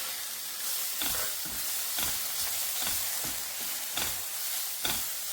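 Fenugreek greens, along with coriander leaves and soft stems, sizzle steadily in a hot pan, broken by regular rhythmic stirring strokes about once a second, close and even, with no talking.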